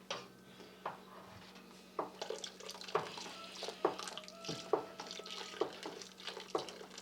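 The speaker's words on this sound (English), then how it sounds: "we're going to add the vinegar slowly as we continue to stir" Milk with vinegar being added is stirred in a pot, giving quiet, close, irregular scrapes and light clinks against the metal over a faint background hum.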